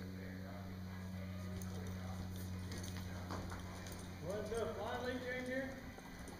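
Hoofbeats of an APHA mare loping in an arena, a soft, steady clip-clop rhythm at moderate distance, with people talking over it.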